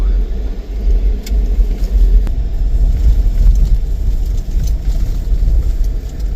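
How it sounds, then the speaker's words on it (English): A truck drives a rough forest road near a wildfire area, a steady loud low rumble of engine and tyres, interrupted by occasional rattles and knocks from the cab. "the truck's definitely getting its shakedown test"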